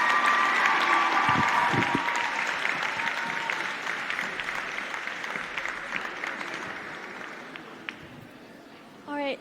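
Crowd applause after a hip hop dance club performance at a school closing ceremony, a thick steady clatter of many hands with a few whoops, slowly fading toward the end as a voice starts.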